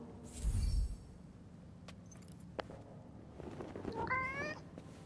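A cat in the video game Forspoken gives a clear, rising meow near the end, preceded by a low thud and faint ambient game sounds.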